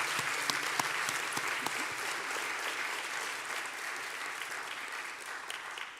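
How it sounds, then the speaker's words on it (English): An audience at a school board of education meeting gives a round of applause for student artists, a soft, fairly distant patter of many hands with a few sharper claps standing out early, fading slightly toward the end. "We could have one round of applause for all of our artists"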